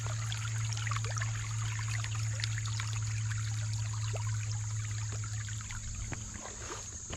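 Quiet creek water trickling and flowing steadily, heard faintly from nearby with a low hum underneath and no talking.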